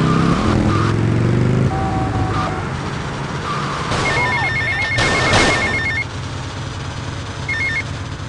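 A payphone rings in Grand Theft Auto: Vice City, with repeated electronic ring bursts layered over game car engine noise and street sounds. The bursts are loud and close.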